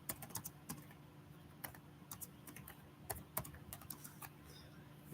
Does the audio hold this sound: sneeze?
no